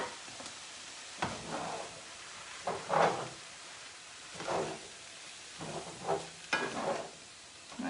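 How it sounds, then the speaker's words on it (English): Shrimp scampi stirred in a hot pan, sizzling softly with several separate scraping stirs spaced a second or two apart, close and fairly quiet. "we'll just stir everything back together"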